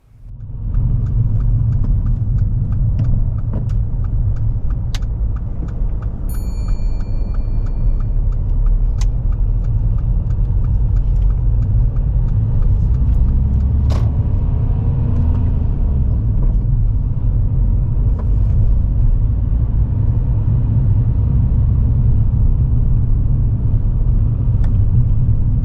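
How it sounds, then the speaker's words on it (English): A car on a driving test rumbles steadily along and changes down a gear on the approach to a tight roundabout, the engine noise close, loud and continuous with no talking. "The roundabout ahead is quite tight, so Millie switches back into first gear for better control"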